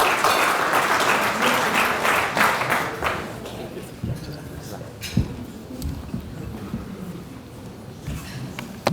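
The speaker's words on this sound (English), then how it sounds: "Please give a round of applause and welcome Mr. Ibrahim Suji." Gala dinner audience applauding a speaker's introduction, a loud burst of dense clapping for about three seconds that thins out into scattered claps and room noise.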